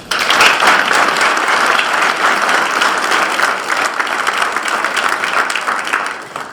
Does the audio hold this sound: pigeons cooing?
no